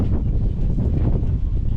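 Strong wind roars steadily and loudly against the microphone in a rural Thai setting where gusts damaged a roof, a continuous low rumble with no speech.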